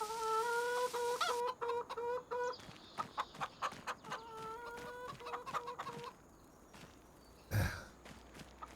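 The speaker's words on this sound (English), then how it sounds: "now we get our chicken feed out and we feed our chickens" Chickens in the video game Farming Simulator 25 cluck in quick, repeated bursts, with a few longer squawky calls early on. The calls are close and fairly loud, and a single brief low thump comes near the end.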